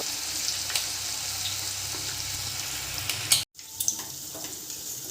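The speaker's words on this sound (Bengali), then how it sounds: "চিকেনের পিসগুলো দেওয়া হয়ে গেলে তারপরে গ্যাসের ফ্লেমটা একটু হাই ফ্লেমে দিয়ে কড়া করে লাল লাল করে ভেজে নিতে হবে" Chicken pakora pieces frying in hot oil on a high gas flame, a dense, steady crackling sizzle up close with a brief cut to silence partway through before the frying resumes.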